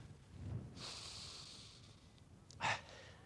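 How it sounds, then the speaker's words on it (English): A single loud, sharp sniff near the microphone, preceded by a softer breathy inhale, with quiet room tone around it. "Take a big sniff at it."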